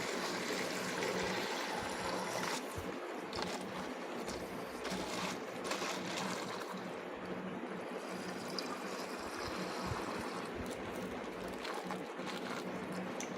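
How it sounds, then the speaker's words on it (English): Water pours and trickles into a bottle, a continuous liquid splashing and gurgling at moderate level with no speech. "you fill the bottle with water"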